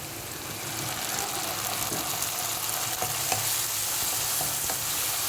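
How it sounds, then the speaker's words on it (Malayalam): Chicken noodles frying in a pan just after soy sauce is poured in, a steady close sizzle with faint stirring scrapes, no voices. "നമ്മൾ എടുക്കുന്ന അളവിനനുസരിച്ച് കുറച്ച് സോയാ സോസ് ഒഴിച്ച് കൊടുക്കാം."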